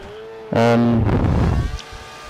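An F1 car in the F1 2012 racing game at Circuit of the Americas sweeps past at full throttle, a brief loud engine roar with a falling pitch that fades within about a second, over a quieter running drone.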